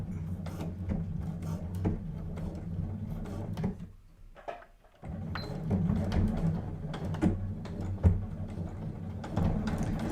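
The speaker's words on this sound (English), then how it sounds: "I'm going to start by stitching down one end of the elastic" A sewing machine runs steadily while stitching down one end of elastic through washi tape on a side pouch, a continuous close mechanical whir with a short stop partway through before the motor resumes.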